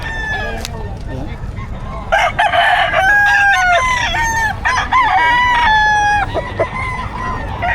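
Roosters and other fowl at a busy Friday pet market in Bocaue, with several loud, drawn-out crows overlapping and clucking mixed in, close by and dominating the scene.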